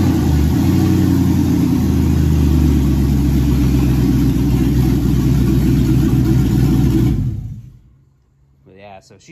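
A newer Chevy 5.3 LS V8 with no exhaust or O2 sensors, swapped into a 1950 Chevy, runs loud and rough with a raw steady roar close by, then cuts off abruptly into quiet.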